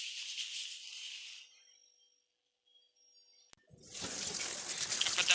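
Pumpkin leaves being rinsed under a running tap: a close, hissing stream of water, then a lull of near silence, before the flowing water returns louder.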